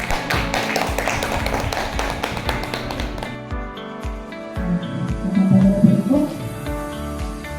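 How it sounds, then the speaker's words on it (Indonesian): A group claps during a presentation on positive discipline, a busy patter of hands that fills the first few seconds and then thins out as a steady musical tone and softer sounds take over. "Kasih tepuk tangan dong teman-teman"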